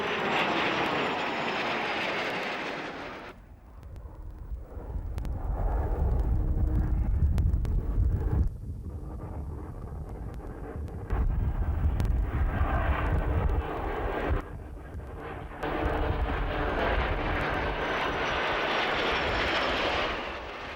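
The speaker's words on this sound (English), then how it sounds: "The jet provost remains a robust jet aircraft, still in service as a jet trainer in various parts of the world." Jet Provost trainer jet flying at an RAF air fair, loud engine roar rising and fading through several passes, with wind buffeting the microphone and no voices.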